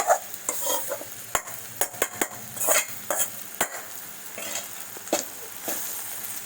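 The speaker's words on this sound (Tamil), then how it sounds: "இப்போ இதில் நான் ரவையை ஆட் பண்ணுறேன்." Semolina for a green pea and carrot upma tipped into a frying pan and stirred, a soft sizzle under sharp, irregular scrapes and taps of the spoon, close and alone.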